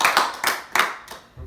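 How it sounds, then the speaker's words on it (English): A few people clapping during a podcast recording, four or five close, separate bursts of hand claps with short gaps between them, indoors and fairly quiet. "So can we get a round of applause?"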